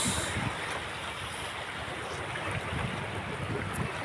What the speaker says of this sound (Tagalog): Maalon mga lods.